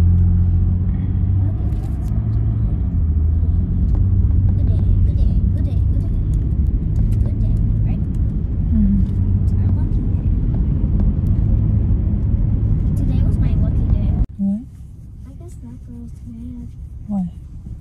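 A car rolls along a road at night, its engine and tyre rumble droning steadily and close for most of the stretch, with a voice and adult talk over it before the noise cuts away to a quieter interior.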